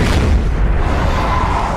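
Biodiesel blown up in a zombie film: a deep, rumbling blast that fills the short clip with dense low-end roar and no voices over it.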